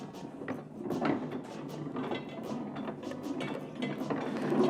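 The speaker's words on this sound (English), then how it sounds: "this machine is a Chandler & Price platen press. It was made in 1919." A 1919 Chandler & Price platen press runs steadily nearby, giving a continuous clatter of gears and a ratcheting, rhythmic mechanical clicking with no voices.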